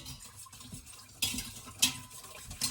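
A utensil stirs yogurt in an Instant Pot, soft scraping and clinks against the metal inner pot coming in a few brief, close bursts.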